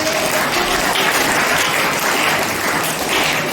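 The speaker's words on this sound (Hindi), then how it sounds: "चलो एक बार मैडम के लिए तालियां बजाइए।" A crowd claps steadily and loudly at a Brahmakumaris summer camp, dense applause filling the whole stretch without a break.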